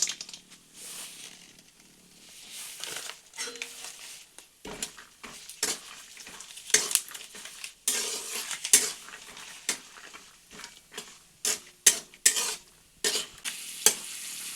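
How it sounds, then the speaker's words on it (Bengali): Raw peanuts fry in oil in a pan, a soft sizzle under repeated clattering stirs and scrapes of a metal spoon against the pan, the clinks growing louder and more frequent, with no voices. "তেলে বাদামগুলি ভেজে নিচ্ছি।"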